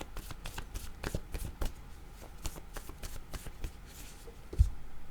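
A deck of oracle word cards is shuffled by hand, a series of crisp riffling bursts in quick irregular rhythm, close and fairly quiet, ending with a soft tap.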